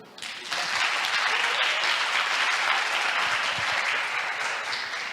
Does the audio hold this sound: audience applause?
yes